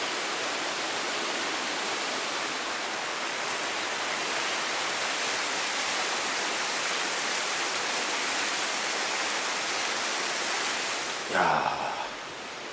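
A waterfall on Naeyeonsan mountain roars as a steady, loud wash of rushing water throughout, and a man's brief exclamation cuts in near the end.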